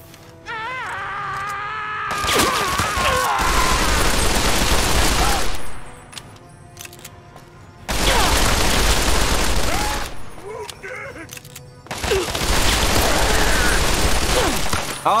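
Heavy automatic gunfire in the Fallout game roars in three long sustained bursts separated by short pauses, loud and dense against quieter game sounds.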